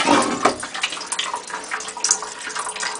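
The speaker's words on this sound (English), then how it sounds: "There, the water coming out through the small nozzle." A TP tap's small nozzle lets out a thin stream of water at an ecological sanitation toilet, a soft, steady splashing trickle lasting a few seconds, close and fairly quiet, with no speech.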